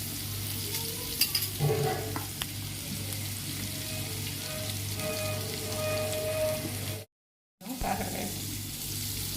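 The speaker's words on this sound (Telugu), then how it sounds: "దీంట్లో మనం ఈ ఉల్లిపాయ ముక్కలన్నీ వేసేస్తాం" Onion pieces dropped into a pan of hot oil with curry leaves sizzle and fry steadily with occasional stirring scrapes, while a low mains hum runs underneath and the sound cuts out briefly near the end.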